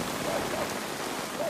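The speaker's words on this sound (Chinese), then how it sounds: "大雨落袂停" Steady heavy monsoon rain pours during a plum-rain storm in southern Taiwan, a dense, even wash of hiss with no breaks, moderately loud and close throughout.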